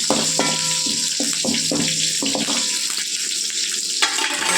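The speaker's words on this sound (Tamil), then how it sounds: "கடுகு நல்லா பொரிஞ்சு வந்துருச்சு" Mustard seeds spluttering in hot oil while rava upma is cooked, a steady close crackle and sizzle broken by sharp pops throughout, with no talking.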